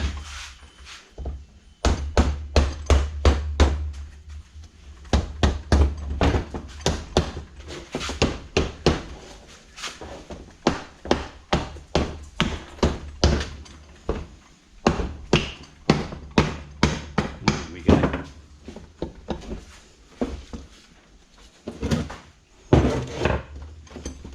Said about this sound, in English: let's see if we can split this side of the casing